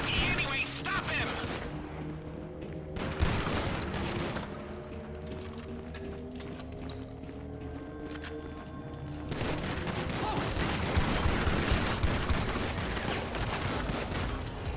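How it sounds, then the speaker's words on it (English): Assault rifle gunfire during the Doomsday Heist finale in GTA Online, heard as dense, continuous bursts of rapid shots with booming impacts, loud and close, over a background drone with brief quieter stretches. "This Shucky is shooting like an assault rifle"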